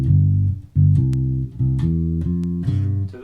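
Bass guitar plays a simple country riff moving between the 1 and 5 chords, with short, plucked low notes in a bouncing, steady rhythm, close and clear with no voices.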